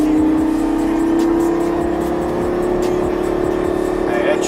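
A Lamborghini Gallardo on a track, its engine holding a loud, steady rising drone throughout as the car accelerates, with faint voices underneath.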